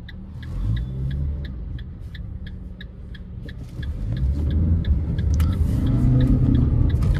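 A 2023 Fiat Mobi Like 1.0 climbs a steep street in the rain, its small engine a low droning rumble that grows louder as it works uphill, with a regular ticking indicator clicking above it for the first few seconds.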